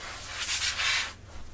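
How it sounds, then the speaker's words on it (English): A can of compressed air blasting dust out of the inside of a PC: a loud, close hiss that surges in two strong bursts, then cuts off abruptly, leaving a quieter rustle. "we quit spraying whenever it gets cold"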